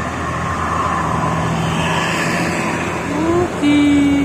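Arjuna buses rolling past on a road, a loud passing engine roar with traffic noise that ends in a sustained, rising air-horn blast.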